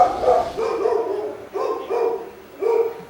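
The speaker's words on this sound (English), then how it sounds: "the 2 dogs that lived behind us didn't ever stop barking ever" Two dogs barking at night in repeated bursts, several sharp yips and woofs with short pauses between, fairly close and clear.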